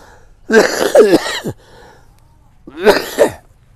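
Two bursts of harsh, throaty coughing close up, the first longer and rougher, followed after a pause by a shorter second fit.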